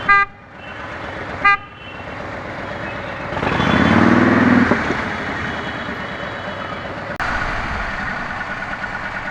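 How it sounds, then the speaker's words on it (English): Car horns toot in heavy Saturday evening traffic, two short honks and then a longer blare over the rumble of nearby engines and passing vehicles. "The traffic is really bad."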